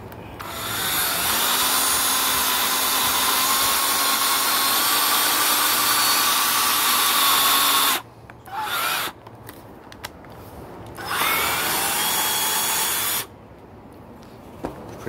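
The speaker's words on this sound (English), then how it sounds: "let's test it doing some drilling" A Black and Decker 18V Firestorm cordless drill whirs steadily for several seconds under load, stops, then runs in two shorter bursts with pauses between; close and loud, no talking.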